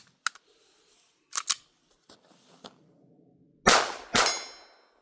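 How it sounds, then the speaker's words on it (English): A few small metallic clicks, including a dry firing-pin click as a Sig P322 Comp pistol fails to fire, followed by two loud, sharp mechanical clacks of the gun action, outdoors in snow. "That was a failure to fire. You could hear the click."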